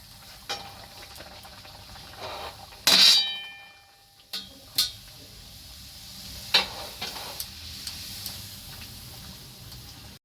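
Pea-stuffed kochuri puris deep-fry in oil with a quiet bubbling sizzle, punctuated by metallic clangs and clicks of utensils against the pan, including one loud clank.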